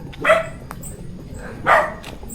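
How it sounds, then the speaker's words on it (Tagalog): Two short dog barks, a second apart, somewhat distant over a low background hum. "May aso."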